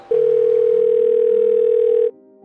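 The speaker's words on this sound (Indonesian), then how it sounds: "Coba telepon mama dulu deh." A telephone call to a mother rings out as one loud, steady electronic tone that lasts about two seconds and then cuts off into near silence.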